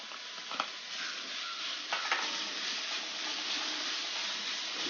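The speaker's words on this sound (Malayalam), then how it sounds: "നല്ലപോലെ ഫ്രൈ ചെയ്യണം" Grated carrot fries in a pan for halwa, a steady hissing sizzle with a few sharp scrapes of stirring, close and continuous with no voices.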